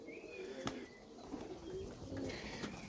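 Pigeons kept in a loft give soft, faint coos over a quiet background, with a few light taps and rustles.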